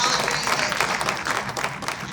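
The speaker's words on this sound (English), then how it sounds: "We'll give them a round of applause." An audience at a regional panel discussion gives the panelists a round of applause, a dense wash of many hands clapping at close to moderate distance, steady throughout the short stretch.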